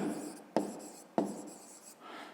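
A pen writes out a math solution on paper, giving a soft scratchy stroke broken by two sharp taps as new marks start, quiet and close with no talk.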